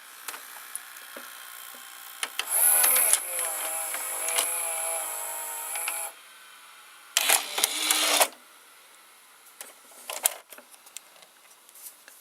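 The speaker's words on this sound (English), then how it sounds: "I think all these Toshiba VCRs have a motor that does that noise." Motor of a Toshiba M-3285C VCR whirring noisily in bursts, with a high-pitched whine and mechanical clatter rising and stopping, close and fairly loud, separated by quieter ticking.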